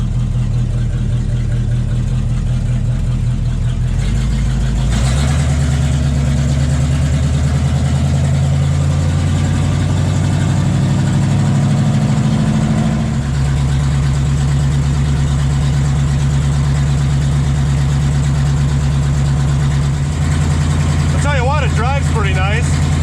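A 1935 Dodge rat rod's engine idles steadily with a deep low rumble and a cooling fan running, loud and continuous, with a brief rise in pitch partway through.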